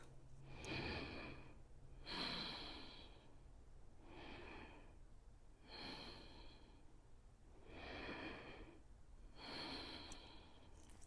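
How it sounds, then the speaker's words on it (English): Deep, slow breathing during a yoga stretch session, about six long inhales and exhales in a steady rhythm, close and soft, with no speech. "take 3 deep breaths"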